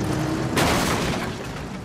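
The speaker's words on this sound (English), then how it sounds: "There was another loud crash." Model trains crash loudly, a dense burst of clattering impact noise that swells about halfway through and then fades slightly, with no one speaking.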